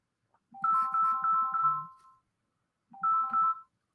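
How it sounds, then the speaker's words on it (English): A phone ringtone for an incoming call plays a bright repeating melodic phrase, one long burst of about a second and a half, then a pause and a shorter repeat, close and clear with no talk. "Oh, another phone call."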